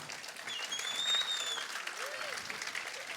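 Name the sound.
audience applause welcoming a performer at a concert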